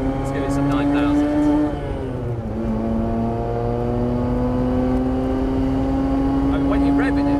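A Mazda RX8 rotary engine revs hard on the Nordschleife, a loud, high steady drone heard from inside the car, dipping briefly before climbing again as speed builds.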